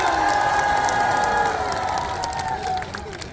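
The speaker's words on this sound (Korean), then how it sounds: "한 번 더 내장산이 흔들릴 정도로 박수와 함성!" A festival crowd at the Gujeolcho flower festival at Naejangsan cheers and shouts with some clapping, a steady wash of voices that stays fairly even before easing slightly at the end.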